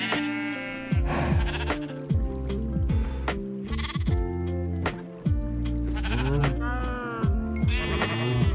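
Minecraft sheep bleat over and over in quavering calls, several animals overlapping in a steady farmyard chorus with little pause, loud and close throughout.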